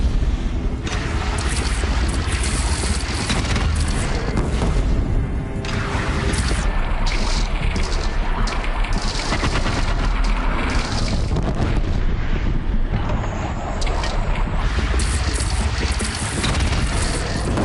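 A bridge is blown up in the video game Horizon Zero Dawn, a sustained, loud, roaring wall of explosion and collapsing debris that rumbles without break for the whole stretch and drowns out everything else.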